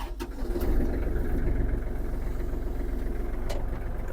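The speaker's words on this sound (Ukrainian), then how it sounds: "Щоб завести трактор, має бути реверс в нейтральному положенні і вижати щеплення." A Kubota GL-320 compact diesel tractor idles steadily with a low, even rumble and rhythmic chugging, close by, with no voices.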